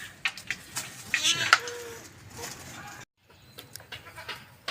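A goat bleats a few times in short cries, with scattered rustling and shuffling around it, then a brief silence before quieter movement.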